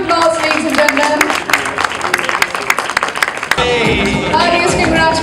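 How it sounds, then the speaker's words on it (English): Audience applause at a cake cutting ceremony for a travel association's Golden Jubilee congress in Istanbul, a loud sustained patter of many hands, easing slightly toward the end, with voices talking over it. "Big round of applause, ladies and gentlemen."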